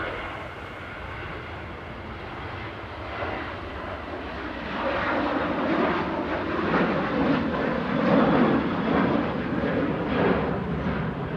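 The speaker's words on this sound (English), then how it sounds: "Ryanair heading to Cologne with flight 6630" A Ryanair jet airliner taking off from Manchester Airport, its engine roar building from moderate to loud and rumbling at full power, with no voices.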